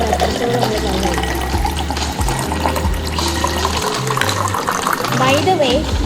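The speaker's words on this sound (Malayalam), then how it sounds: "ഫസ്റ്റ് നമ്മൾ വെള്ളം ഒഴിക്കുക. നമ്മൾ കപ്പ് എത്രത്തോളം നമ്മൾ വെള്ളം ഒഴിക്കുക." Water is poured into a cup in a continuous trickling fill lasting several seconds, close by, with music and background sound running underneath.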